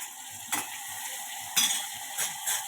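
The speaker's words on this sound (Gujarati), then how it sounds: "બટેટા છે સતરાય એટલે આપણે ગુવારને નાખી દઈએ, એડ કરી દઈએ" Cluster beans tossed into frying potatoes in a pan, with a steady hissing sizzle and a few distinct spatula scrapes and knocks at intervals.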